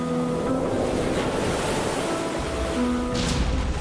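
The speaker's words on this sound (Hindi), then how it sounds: "डरा देने वाली समंदर की लहरें," Storm George lashing the coast of Ireland: a continuous roar of heavy sea waves and surf with strong wind buffeting the microphone, loud and steady throughout, no voices.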